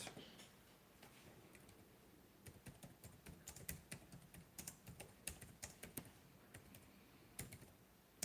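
Rapid typing on a computer keyboard, a steady run of light plastic key clicks with short pauses, close and fairly quiet, no voices.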